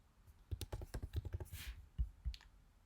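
Keys clack in a quick, uneven burst on a computer keyboard while a label is typed in, the taps close and crisp with no talking.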